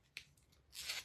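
A transfer sheet is pulled up from the middle of its backer sheet, a short dry snap followed by a soft tearing peel that swells and fades within a second, close and fairly quiet.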